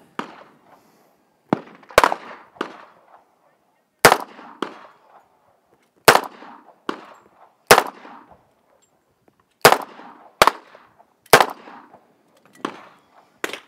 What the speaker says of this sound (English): I'm going to fire this a couple of times to know what to look out for when you're shooting it